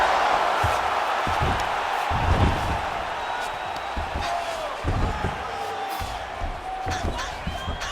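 Fighters grappling in the UFC 4 video game, with a heavy slam to the mat and several dull thuds over a steady arena crowd murmur, with commentary running throughout.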